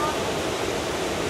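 Roaring water of Kuang Si waterfall in Laos, a steady, loud broadband rush close by with no breaks.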